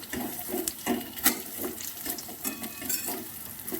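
Potato, onion and bitter gourd frying in a pan, with a steady sizzle broken by rhythmic stirring scrapes, close and moderately loud, no voices.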